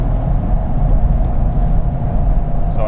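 Diesel truck engine floored at full throttle, producing a continuous heavy low rumble with a faint whine on top, loud and close, steady for the whole stretch with a brief higher squeak at the end.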